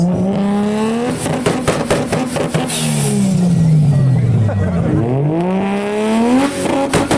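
Japanese performance cars roll back into the paddock at the JapFest 2025 car show in the UK, engines revving and rising and falling in pitch as several pass close by, with a crowd murmuring underneath.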